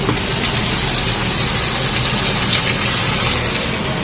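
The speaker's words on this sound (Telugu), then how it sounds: "ఇక్కడ వాటర్ ట్యాప్ ఆన్ చేయండి ఫస్ట్." Water gushes from a tap into an Onida Lilliput 6.5 kg semi-automatic washing machine, a steady, loud, continuous rushing flow with no pauses and no talk.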